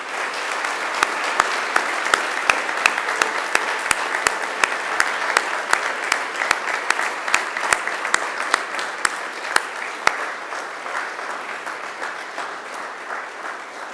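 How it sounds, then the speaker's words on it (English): Audience applause at a university graduation ceremony in a large hall, a steady dense wash of clapping that stays loud and even throughout, with no talking over it. "it's time to give them a mighty round of applause"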